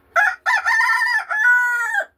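A pet therapy bird calls loudly and close, three strong crowing-like calls in a row, the last one long and drawn out, with no talk over them.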